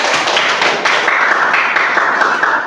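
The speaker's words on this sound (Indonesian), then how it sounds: "Tepuk tangan buat teman-teman." A classroom of students claps for their classmates during an Indonesian school lesson, a sustained, fairly loud patter of many hands, with a faint tonal hum running underneath and no talking.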